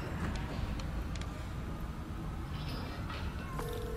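A cat meows in the Spider-Man: Miles Morales video game, with short cries rising over a dense bed of game music and ambient noise, fairly quiet in the mix.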